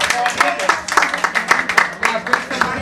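At a drag ball celebrating an anniversary, an audience claps in a steady, close patter of irregular hand claps, with voices talking over it.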